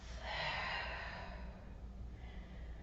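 A single deep, audible breath during a yoga forward fold, a close, breathy exhale or sigh that swells and then fades, soft and unaccompanied by speech.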